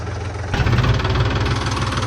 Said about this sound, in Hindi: इसका साउंड तो नेक्स्ट लेवल है। 17 साल हो गए इस ट्रैक्टर को लेकर, इसका साउंड चेंज नहीं हुआ।